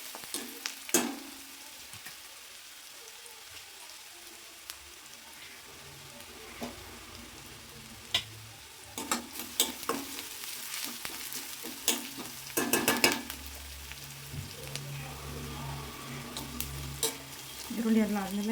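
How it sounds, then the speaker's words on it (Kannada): Onions fry in a pan for matar paneer, a soft continuous sizzle broken by repeated scraping stirs of a utensil and scattered clinks against the pan, close by and fairly quiet. "ಇದು ಚೆನ್ನಾಗಿ ಫ್ರೈ ಮಾಡ್ಕೊಳ್ಳೋಣ."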